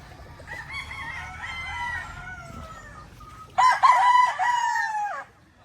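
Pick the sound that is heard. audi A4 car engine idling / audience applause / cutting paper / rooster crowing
rooster crowing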